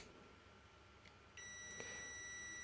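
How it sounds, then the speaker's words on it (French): A multifunction clamp multimeter on its continuity test gives a steady, high-pitched electronic beep as a push-button closes the circuit. The tone starts halfway through a quiet stretch and continues unbroken to the end. "Le multimètre sonne."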